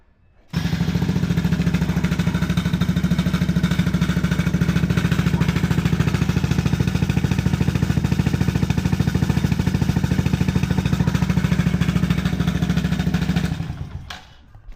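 A motorcycle with a stock SEC exhaust pipe runs steadily for about thirteen seconds, a loud, even, close engine drone that then cuts off abruptly, with no talk.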